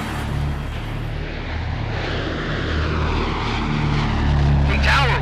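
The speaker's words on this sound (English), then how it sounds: "Hey Tower, we just missed a small jet on 6 left." Aircraft engine noise at an airport runway, a steady droning roar that slowly builds louder toward the end, with a radio voice briefly over it near the close.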